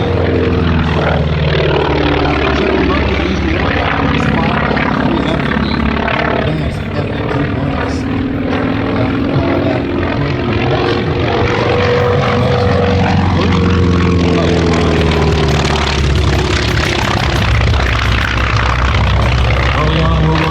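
An F4F Wildcat warbird propeller plane roars through an aerobatic strafing pass at an airshow, its loud engine drone rising and falling continuously as an announcer talks over it.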